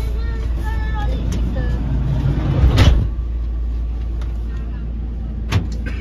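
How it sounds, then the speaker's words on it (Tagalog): Road traffic in Baguio with cars and buses passing, a constant loud engine rumble up close, one vehicle swelling past midway and a brief knock later, with people talking over it. "Traffic."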